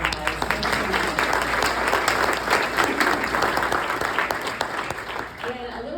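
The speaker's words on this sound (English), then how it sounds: "I want to give you guys a round of applause" A chamber of commerce audience gives a round of applause, full-room clapping that holds steady and loud before tapering slightly at the end, with a brief voice near the close.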